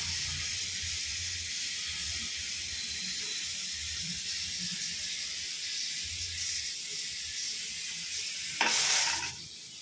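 Pressure cooker whistle releasing steam on a home kitchen stove, a loud hissing burst arriving near the end after a steady background of sizzling and running-water sounds.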